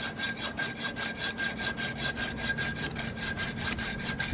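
A wheel axle on a Camco Rhino tote tank is cut off with a hand saw. Brisk back-and-forth strokes rasp in a quick, steady rhythm, close and clear, with no talking.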